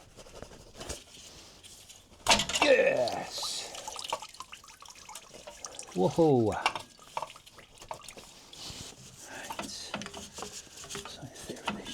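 Water drips and patters from a Porsche 996 engine as its water pump is removed during a major service, intermittent splashes close by, with a man's brief exclamations over it.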